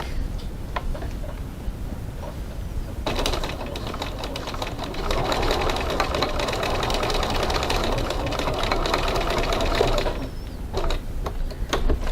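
A sewing machine stitches the corners of a fabric piece at a 1 cm seam, running steadily for several seconds with dense rapid ticking, then stopping, with quieter handling sounds before and after.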